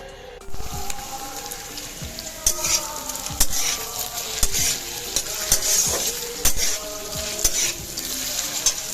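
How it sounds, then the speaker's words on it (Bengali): Cauliflower and potato sizzle steadily in a hot pan as a spatula stirs and scrapes at irregular intervals, close and fairly loud. "কলি আর আলু ভাজাটা আগে ভেজে নেব"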